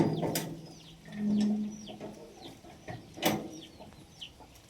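Chickens clucking and chirping nearby in an outdoor yard, with scattered bird calls and a low hum in the background.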